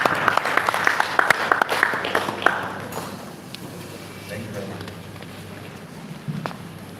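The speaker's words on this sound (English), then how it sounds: "A round of applause, please." Applause from an audience at a Nigerian medical students' association opening ceremony, a burst of sharp claps in the first few seconds that quickly thins out into quiet room noise.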